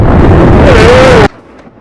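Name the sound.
storm thunder sound effect in Sonic Boom cartoon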